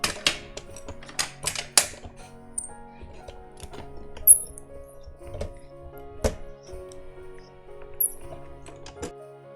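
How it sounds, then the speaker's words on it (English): A die-cutting machine works a colored stamped image with coordinating dies, giving sparse sharp clicks and clacks close by with quiet gaps between them, and no talking. "I'm going to go ahead and die cut that out with the coordinating dies"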